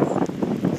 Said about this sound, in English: We've been dealing with 20 to 30 mile per hour wind and 50 mile per hour gusts.